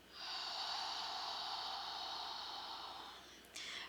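One long, steady breath exhaled forcefully through the mouth during a beginner hip mobility routine, a close airy hiss lasting about three seconds, then a brief second puff of air.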